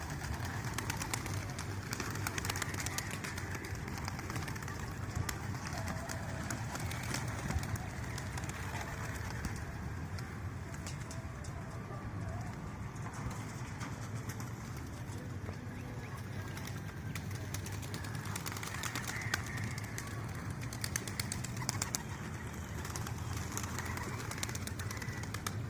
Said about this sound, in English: we're gonna get all the birds out